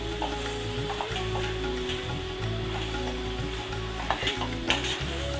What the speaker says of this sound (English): So I turn the gas off and just give it a good mix up.